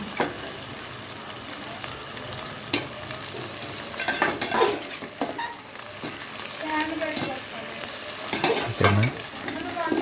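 Masala for coconut prawn curry fries in a pan with a steady sizzle while a spoon scrapes and stirs it in irregular clatters. Close and moderately loud, with no talk over it.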